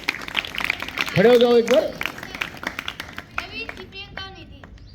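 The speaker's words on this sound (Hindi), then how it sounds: "इन तीनों के लिए जोरदार ताली।" Loud clapping from a school audience at a Haryana government senior secondary school assembly for three student speakers, rising in a burst with voices talking over it, then continuing more thinly.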